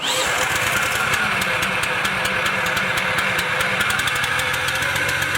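A truck engine running with a steady, rough, knocking rhythm, loud and close throughout, with no talk over it.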